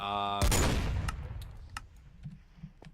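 Gunfire in a video game: a sharp burst of shots opens after a tonal hum, followed by scattered fainter pops and clicks fading into the distance.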